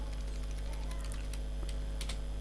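Soft keystrokes tapping irregularly on a computer keyboard while text is deleted in a document, faint and close under a steady low electrical hum.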